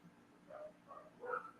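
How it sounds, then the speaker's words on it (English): Dogs barking upstairs come through as a few faint, muffled barks and yips at a distance, with short, irregular bursts and quiet gaps between them. "My dogs are upstairs barking like crazy"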